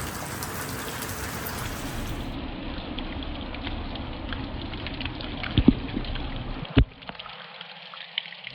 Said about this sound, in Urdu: ہمیں تو سب جگہ ہی بارش مل رہی ہے بھائی